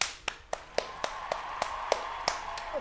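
A single person clapping alone, about ten sharp claps at a steady, unhurried pace, fairly close and light against a quiet room tone with a faint hum, during a charity livestream.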